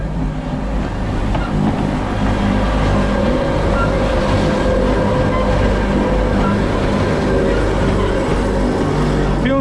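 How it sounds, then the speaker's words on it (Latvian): A small train on the climb up to Christ the Redeemer rumbles past close by, a loud, steady, continuous roar with no pauses for the whole stretch. "brauc vilcieniņš."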